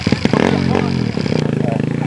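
Dirt bike on a trail being let fall, an idling motorcycle engine putters rhythmically with a clattering knock near the start, loud and close, while people talk.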